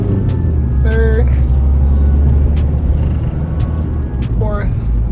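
A cheap Volkswagen Beetle TDI diesel pulls along in third gear, its low engine rumble loud and steady inside the cabin, while a voice speaks briefly over it.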